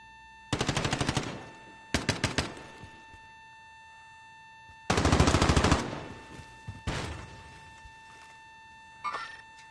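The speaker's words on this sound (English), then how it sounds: "Oh, that's a decoy grenade" Bursts of rapid automatic gunfire from a decoy grenade in Call of Duty Modern Warfare, several separate rattling volleys in a street setting, fairly close and loud, with a short faint burst at the end and no talk.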